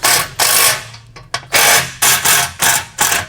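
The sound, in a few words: tightening trailer fender bolts with a 9/16 socket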